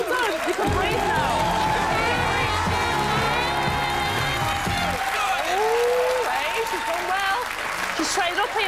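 Studio audience applauds after two singers finish a duet on a televised singing show, loud sustained clapping with music playing underneath throughout.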